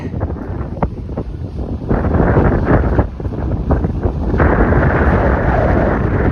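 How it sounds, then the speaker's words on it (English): Strong wind in midtown Toronto roars and buffets against the microphone, gusting louder partway through with a steady rumbling rush and no voices. "It's a windy Monday."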